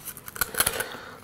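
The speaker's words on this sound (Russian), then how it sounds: "Нужно взять ножницы, проделать дыру и аккуратно отстричь верхушку." Several quick, crisp snips of scissors cutting through a brittle sea urchin shell, close up, with small cracking clicks between cuts.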